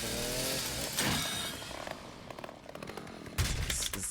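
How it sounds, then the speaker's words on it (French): A chainsaw cuts through a door in the video game Resident Evil 9: a buzzing, droning motor with rough grinding texture, then a sharp, loud burst near the end. "Ça ne marche pas comme ça de passer une tronçonneuse au travers d'une porte"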